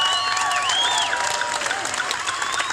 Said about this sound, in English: big round of applause to all the young'uns